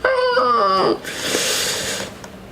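A wounded dog in a Warhammer 40k tabletop session whimpers in pain, a loud rising-and-falling whine for about a second, then a breathy fading noise follows.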